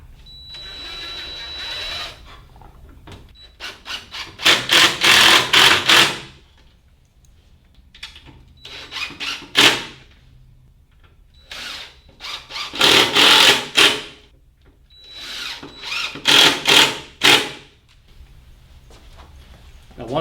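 Screws are driven into a block from underneath a sewing workstation table, probably with a power driver. There are several loud bursts of whirring about a second or two long, separated by quieter pauses and faint handling noises.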